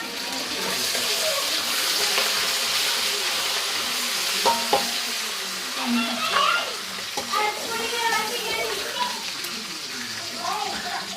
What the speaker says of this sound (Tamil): அடுத்த ரம்ப கருவேப்பிலை போடப்படுது